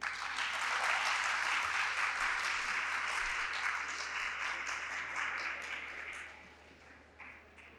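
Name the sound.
audience applause at a conference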